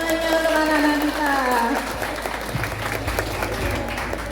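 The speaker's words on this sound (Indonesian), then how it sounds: "Bapak Ibu, tepuk tangannya untuk anak-anak kita" Parents in an audience applaud children after a Qur'an recitation completion ceremony, clapping rising under a sustained voice at first and then continuing as a dense, even round of applause.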